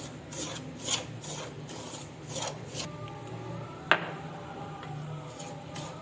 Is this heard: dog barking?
no